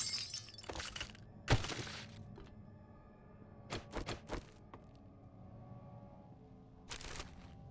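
Glass of a gas fireplace broken in the game 7 Days to Die: a loud crashing break early on, then several scattered knocks and thuds over quiet background ambience.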